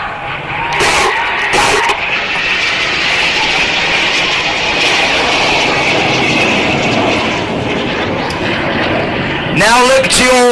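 Red Arrows display jets fly low at about 100 feet and 300 knots at the Clacton Air Show, a loud sustained roaring jet wash filling the whole scene, swelling and fading as they pass.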